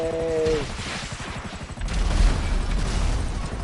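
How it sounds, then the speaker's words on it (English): Rapid bursts of gunfire and explosions in the video game GTA 5, sounding as a dense, continuous rattle with deep booms building in the second half, a brief voice heard at the start. "I hear explosions"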